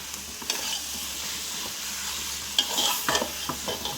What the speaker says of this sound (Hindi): ये स्पैगेटी इसके अंदर शामिल करने के बाद अच्छे से मिक्स करेंगे